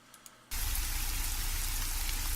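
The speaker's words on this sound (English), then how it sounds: "The rain is pretty loud, again, all over the place." Looping ambient rain in an Unreal Engine 4.12 game sets in abruptly as a loud, dense, steady hiss after a brief quiet lead-in, filling the space evenly with no voices.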